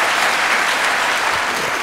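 An audience at a religious talk applauds, a dense continuous clatter of clapping hands that stays loud and even throughout.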